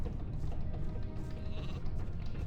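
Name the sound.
sheep bleating in video game Gothic II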